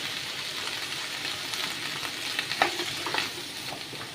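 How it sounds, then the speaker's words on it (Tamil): Tomatoes and green chillies sautéing in a pan for a paneer butter masala gravy, a steady close sizzle with light scraping stirs rising briefly in the middle. "தக்காளியும் கொஞ்சம் சாஃப்டாகிற வரைக்கும் வதக்கி விட்டுக்கோங்க"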